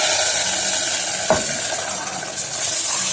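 Tempering is stirred into pongal in a hot kadai, and a steady sizzle and hiss fills the scene, with a brief clink of a spoon partway through.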